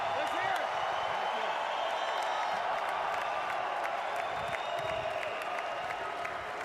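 A crowd at an NFL Draft watch party, with Packers fans present, sends up a loud, sustained wash of cheering and applause that carries evenly through the whole stretch.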